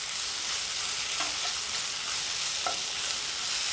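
Steady hiss of sausages frying in a hot pan, with a few sharp crackles and pops breaking through the sizzle.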